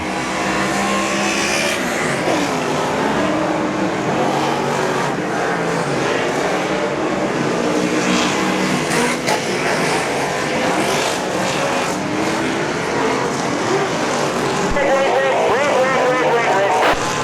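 Superstock race cars roar off the start, a loud continuous wall of engine noise from many cars under excited commentary, with rising engine tones toward the end.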